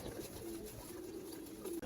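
Soft, faint coos from caged adult and young pigeons over quiet background hiss, two short murmurs about a second apart.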